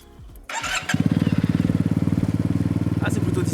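Yamaha TMAX Turbo scooter engine cranking briefly, then catching and settling into a steady, pulsing idle close by, with a few clicks and faint background sounds before it starts.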